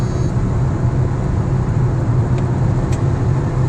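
A VW 1.4 TSI car (122 hp CAXA engine) with a low turbo boost fault accelerates weakly in 6th gear, giving a steady loud low engine and road drone from inside the car with no talk.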